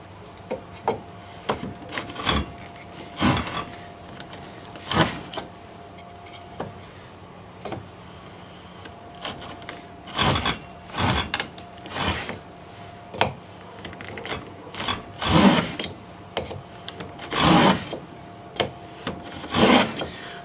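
An unmarked tongue and groove hand plane taking fairly heavy shavings off a wooden board, a series of separate rasping strokes with short pauses between them, some quick and some drawn out, close and clear with no talking.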